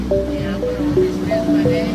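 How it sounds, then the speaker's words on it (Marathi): The fast-flowing Narmada River at Sahastradhara in Maheshwar, a constant loud roar of rushing water filling the scene while a voice speaks over it. "नर्मदा नदी इतकी मोठी आहे, प्रचंड आहे वेग"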